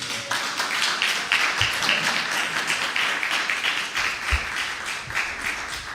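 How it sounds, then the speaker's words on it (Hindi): A church congregation bursts into loud, sustained applause, dense hand clapping filling the room for several seconds with little talk over it. "एक बार जोर से ताली बजाएं।"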